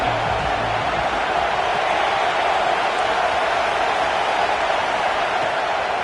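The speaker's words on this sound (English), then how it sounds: "Decibels rising as the crowd gets behind this defense on third down." A football stadium crowd roars on a third-down defensive play, a dense, loud, unbroken wall of cheering noise that holds steady throughout.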